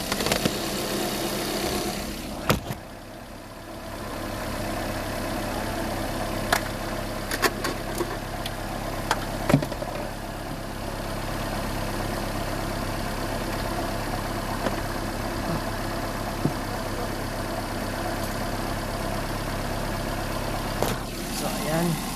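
A car engine idles steadily after an alternator repair, a continuous low hum throughout with brief clicks and knocks, and people talk over it at times.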